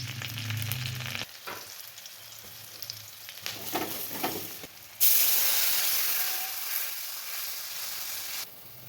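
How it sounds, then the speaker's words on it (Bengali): Bengali five-spice tempering hitting hot oil in a pan, a sudden loud hiss that settles into steady sizzling, following quieter frying and stirring sounds. "5 ফোড়ন দিয়ে দিলাম"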